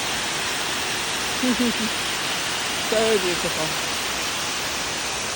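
Running water in a forest in autumn: a loud, steady broadband rush of flowing stream close by, continuous throughout, with a voice speaking briefly and faintly under it.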